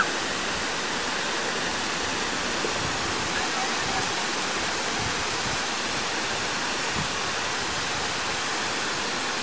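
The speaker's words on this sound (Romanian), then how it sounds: "Uite, e cascada." A waterfall rushes with a steady, dense roar of falling water that is loud and unbroken throughout, with nothing else standing out.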